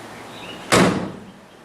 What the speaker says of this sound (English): when you close the door of an old car